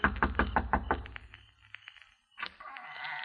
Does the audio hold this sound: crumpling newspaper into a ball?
no